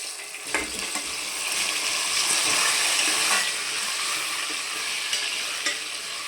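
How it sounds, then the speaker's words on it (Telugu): Taro pieces frying in oil make a constant close sizzle that swells in the middle, with occasional stirring clicks and no voices. "ఇప్పుడు అదే నూనెలో ఇది శామదుంపలు వేపుకుందామండి"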